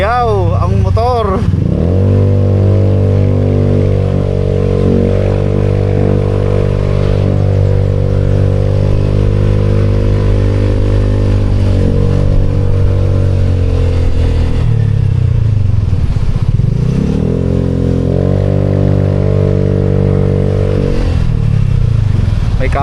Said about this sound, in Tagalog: Iyaw ang motor.